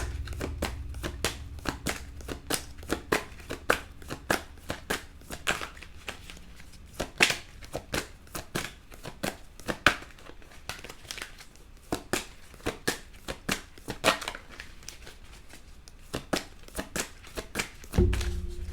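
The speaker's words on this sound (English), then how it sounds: "may I have 1 more card" Tarot cards are shuffled by hand in repeated brisk riffles and snaps, close and crisp with uneven pauses between bursts, and a brief thump near the end, with no talking.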